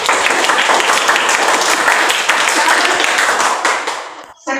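A classroom of pupils claps hands together in a dense, loud burst that holds steady for several seconds before trailing off abruptly at the end.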